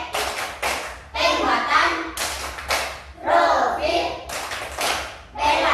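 Classroom children performing the tepuk pelima clap chant, rhythmic bursts of group clapping alternating with chanted voices, loud and close.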